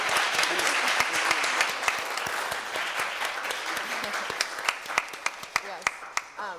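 An audience applauds at a panel discussion, with dense, steady clapping that gradually thins into a few louder, separate claps near the end.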